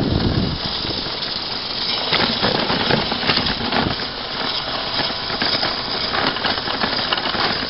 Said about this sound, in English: That noise you hear rattling is the headrest.